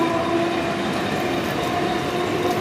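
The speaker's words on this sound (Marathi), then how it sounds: "ट्रेन चालली आहे बघा. ही ट्रेन आली सेंट्रलची." A Central line local train passing close by near Masjid station in Mumbai during the monsoon, a loud continuous rumble and rattle of wheels on track with no break.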